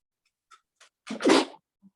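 A single sharp sneeze, preceded by a few faint breaths and quiet sniffs.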